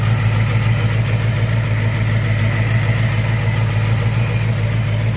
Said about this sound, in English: And there it is, small block Ford,